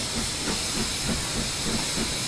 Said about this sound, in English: we're not using as much steam as it was just venting out the front